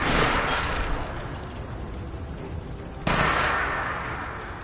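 Bursts of full-auto fire from a 10mm pistol in Fallout 4 rattle out steadily, a continuous volley that eases off before a sharp fresh burst restarts the rapid shooting, with no talking over it.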